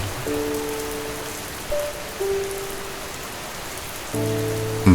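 Steady rain patters on a surface, a dense, even hiss close by, with soft sustained musical tones entering and fading above it.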